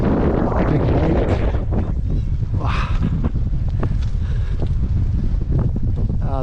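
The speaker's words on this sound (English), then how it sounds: "It's a bit windy though, very, very windy." Strong wind buffets the microphone steadily beside a big lake on a windy bike ride in England, a loud continuous low rumble with gusty roar throughout, no talk.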